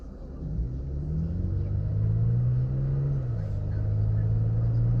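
A Toyota Tacoma TRD Pro pickup cruises at 60 mph with a steady low engine drone and road rumble, the pitch shifting slightly midway, and faint talk underneath.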